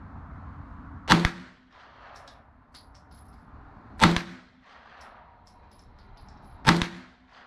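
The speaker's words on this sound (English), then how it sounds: "for the first test, we're going to try unsuppressed to see if we're on target without the suppressor" Three sharp, loud single shots from an unsuppressed B&T SMG-M-9 submachine gun at an outdoor range, spaced about three seconds apart, each with a short echoing tail and no talk.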